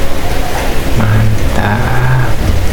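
Heavy rain pours down during a bath outdoors in the rain, a loud, dense and continuous hiss of falling water close to the microphone.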